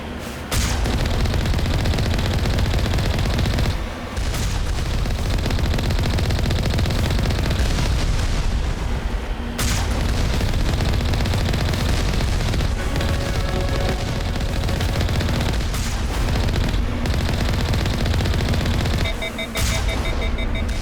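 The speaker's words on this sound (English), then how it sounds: "Firing rockets." Rocket fire and heavy weapons barrage during a Mass Effect 1 battle at a facility's system defenses, a dense, continuous roar of blasts and impacts lasting throughout, with a few brief dropouts and a speaking voice faintly underneath.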